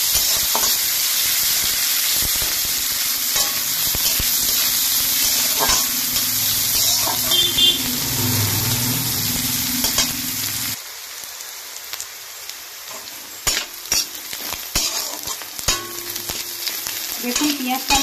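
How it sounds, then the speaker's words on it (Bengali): Onion and green chilli frying in a pan after cumin seeds, a steady close sizzle with stirring scrapes that softens partway through and continues with intermittent crackles. "আমি এবার পেঁয়াজ কাঁচা লঙ্কাটা এর মধ্যে ভেজে দেবো"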